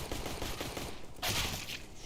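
Gunfire in a Counter-Strike match at the Antwerp Major final between NAVI and FaZe: a dense, steady rattle of shots with a sharper, louder burst near the end, and no talking.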